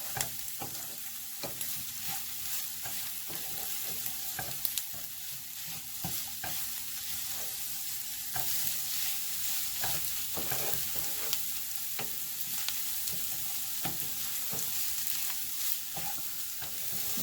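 Stuffed bitter gourd, finished with chopped coriander, sizzles and fries in a pan with steady crackling and occasional stirring scrapes, continuous and close with no talking.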